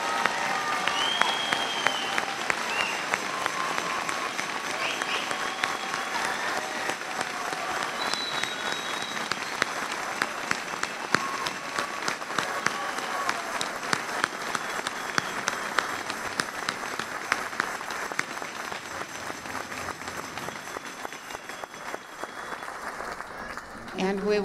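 A church congregation welcoming Archbishop Samuel Aquila in Colorado claps steadily in sustained, dense applause that fills the room for the whole stretch, with some voices mixed in.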